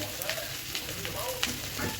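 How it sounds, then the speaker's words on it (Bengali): Chopped onions frying together with potatoes in oil make a soft, even sizzle with occasional light stirring scrapes. "তো এই পেঁয়াজগুলো দিয়ে আরেকটু ভাজা করব"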